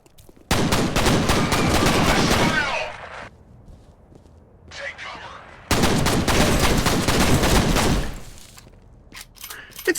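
Pistol gunfire in the video game F.E.A.R., two long bursts of rapid, loud shots, each running about two to three seconds, with a brief quieter gap between them and a few scattered pops near the end.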